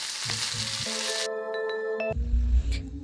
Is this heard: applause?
no